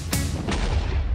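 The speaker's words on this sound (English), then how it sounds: "Can we use a potato cannon?" A Minecraft Create Mod potato cannon fires in a game against the Ender Dragon's crystals: two sharp booming shots in quick succession, the first louder, over a dense steady rumble.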